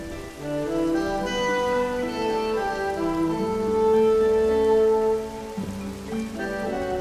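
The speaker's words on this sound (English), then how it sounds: "And it's a thunderstorm." Steady rain pattering on surfaces during a thunderstorm in a video game, a dense continuous wash layered over sustained tonal game music, with no thunderclap standing out.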